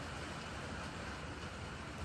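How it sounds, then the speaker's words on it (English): Rain and wind outside in Danish fall weather, a steady broadband wash of rainfall and gusts heard from indoors, even and unbroken with no talk. "you'll probably be able to hear both the rain and the wind"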